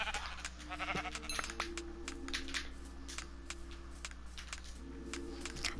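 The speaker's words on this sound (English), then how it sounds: "Get all the sheep." Sheep bleat in the Minecraft video game on PlayStation 4, a few short synthetic bleats at moderate level over keyboard clicks and a low steady hum, without speech.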